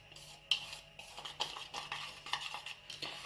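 Flour and cornstarch are stirred together in a bowl for homemade slime, with quiet, irregular spoon clinks and scrapes against the dish.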